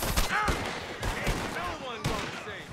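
Rapid gunfire in the open-world Western video game Red Dead Redemption 2, a close burst of several sharp shots in quick succession with voices speaking over the shooting.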